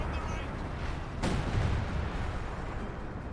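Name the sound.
base artillery barrage firing in Company of Heroes 2 video game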